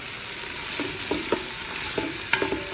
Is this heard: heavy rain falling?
no